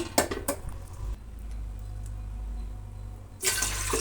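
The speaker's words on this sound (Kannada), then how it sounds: "ಒಂದು ಎರಡು ಚಂಬು ನೀರನ್ನು ಹಾಕೋಣ ನೋಡಿ ಈ ಚೆಂಬಲ್ಲಿ" Water poured from a small pot into a cooking vessel on a stove in a home kitchen: a steady splashing pour for a few seconds, bracketed by clinks of metal utensils, close and alone without talk.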